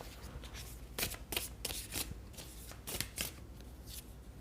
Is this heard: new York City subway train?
no